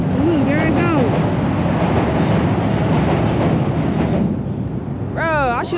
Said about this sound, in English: I am walking so far, bro, just to get on the train